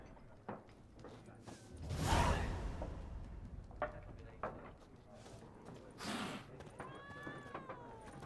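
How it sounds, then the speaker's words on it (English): A cat meowing in The Witcher video game, a couple of faint short meows amid quiet game ambience with footsteps and a brief swell of background noise. "I hear the cat in game"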